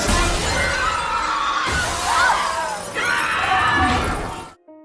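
A glass floor shatters beneath a crowd in a restaurant scene of the 2025 horror film Final Destination: Bloodlines, a loud sustained crash of breaking, cascading glass lasting several seconds before cutting abruptly to silence.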